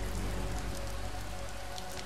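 Steady rain pours down in Lara Croft and the Temple of Osiris, a dense, even hiss of drops striking stone that fills the whole moment close and loud, with no voices over it.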